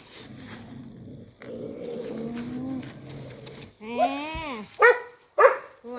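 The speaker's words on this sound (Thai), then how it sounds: "นั่นเห่าละ เห่าละ" A dog barks in a rural northeastern Thai village at morning, several sharp barks rising near the end, close and loud, with people talking underneath before the barking starts.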